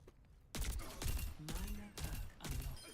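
Bursts of gunfire aimed at a tank enemy in Overwatch, several sharp rapid volleys in quick succession, loud and close with brief gaps between bursts.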